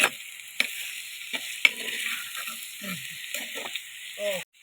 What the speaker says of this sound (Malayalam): അതാ പേരി മത്തി എടുത്തിട്ടു. എല്ലാം കൂടി ഒന്ന് മിക്സ് ആക്കുന്നുണ്ട്.